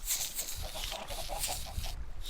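A flock of Minecraft chickens keeps up steady, overlapping clucks throughout, moderately loud and nearby, heard alone without voices.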